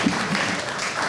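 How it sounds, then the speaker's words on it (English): Brief burst of audience applause in a school board presentation room, a short steady patter of clapping with little else. "Round of applause for Dana."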